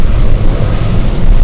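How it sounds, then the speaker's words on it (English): Gusty wind at Anchorage airport: loud, continuous low roaring buffets battering the microphone throughout, with no voices. "Okay, it's windy."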